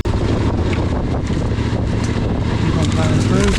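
An engine runs steadily and loud throughout, a constant low rumble while plowing through a narrow, grassy channel, with heavy wind buffeting the microphone.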